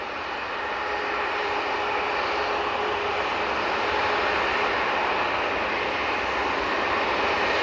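A large aircraft approaching Manchester Airport sends a loud, steady, broadband engine roar that swells slightly and holds throughout.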